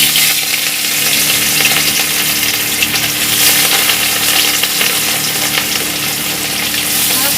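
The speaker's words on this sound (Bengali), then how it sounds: "এবার আমি একে একে মাছটা ছেড়ে দেবো।" Rohu fish pieces fry in hot oil in a wok for a raw-mango fish curry, producing a loud, dense, continuous sizzle close by with no talking.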